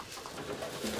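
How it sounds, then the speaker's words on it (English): Champion racing pigeons cooing in a loft, soft low throaty coos over a close, murmuring background, with no speech. "still here getting his champion pigeons ready for the racing season"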